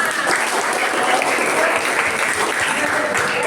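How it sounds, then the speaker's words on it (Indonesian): A classroom of students in a ninth-grade Indonesian language lesson claps together, producing a dense, even burst of applause that stays loud and steady from start to finish. "Beri tepuk tangan untuk kita semua."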